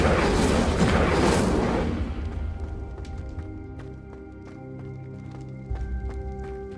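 Incendio, the fire spell in Hogwarts Legacy, erupts as a roaring fiery whoosh for about two seconds, then fades into soft in-game music and ambience.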